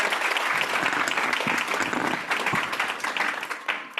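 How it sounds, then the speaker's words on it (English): Audience at a reproductive-rights panel discussion gives the panelists warm, full applause, a dense clatter of many hands that thins slightly toward the end. "Let's give a round of applause to our panelists."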